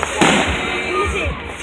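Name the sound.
loud fireworks exploding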